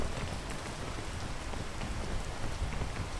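Constant heavy rainfall in a game world, a thick even hiss of drops hitting surfaces with occasional sharper splats, no talking over it.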